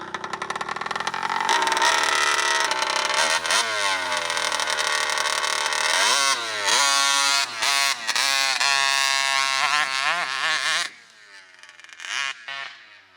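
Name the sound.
RCMAX 80cc gas engine of RC monster truck running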